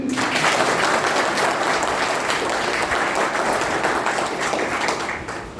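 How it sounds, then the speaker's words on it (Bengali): Sustained applause from an audience at a district branch organisational conference in Bardhaman, steady dense clapping filling the whole stretch at a close, even level with no speech over it. "বাহারটা নিয়ে একটা হাততালি দিন।"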